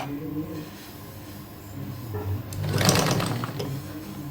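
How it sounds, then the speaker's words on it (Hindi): A sewing machine stitches a curved deep neckline in short runs, its rapid mechanical whirring starting and stopping, rising to a louder burst near the end, close and steady. "अब क्योंकि हम गोलाई में सिल रहे हैं तो इसको है ना हमें रोक रोक के सिलना है।"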